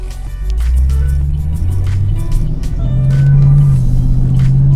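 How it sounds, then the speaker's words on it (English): Heard from the cabin, a 2010 Chevrolet Camaro SS V8 gives a deep, steady low drone with rising and falling engine tones as it accelerates, with no talking. "it sounds really nice, even inside the car with it having that V8 motor"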